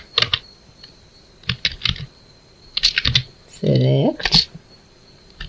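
Keys clatter on a computer keyboard while an SQL query is typed, in short irregular bursts of crisp clicks with pauses between, close and clear, plus a brief voiced murmur in the middle.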